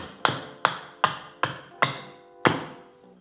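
An axe chops down a piece of wood with six sharp, close strikes at a steady rhythm, each crisp knock ringing briefly before the next blow.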